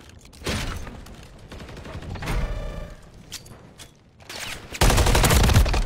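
Bursts of video game gunfire rattle through an online match, with a sustained automatic volley near the start, scattered shots in the middle and a loud, dense fusillade closing the moment.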